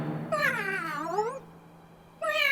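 A cat meowing twice up close, a long drawn-out wavering meow followed after a short pause by the start of another, clear and prominent over a faint background hum.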